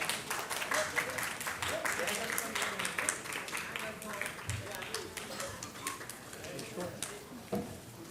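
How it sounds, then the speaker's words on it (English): An audience at a luxury project launch event breaks into steady, dense applause, clapping continuously from near and far throughout, with a few brighter claps and scattered voices mixed in. "Friends, a huge round of applause."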